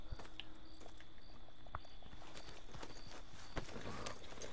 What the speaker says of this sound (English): let's get on this random horse